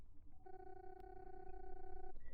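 A video game phone plays a notification chime, a single sustained electronic tone held for about one and a half seconds over a low hum, with no talking.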